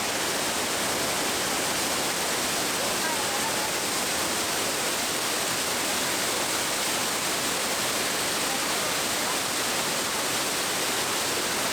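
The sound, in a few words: waterfall in Kamphaeng Phet, Thailand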